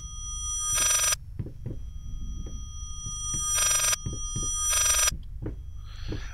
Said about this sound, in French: c'est un téléphone qui sonne à l'envers